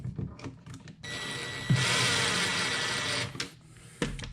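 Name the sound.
cordless drill driving screws into an electrical outlet box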